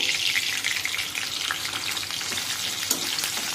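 Finely chopped garlic and curry leaves crackle in hot oil for a dry-fish chutney, a loud, dense, close sizzle that holds steady throughout, with faint stirring scrapes and no speech.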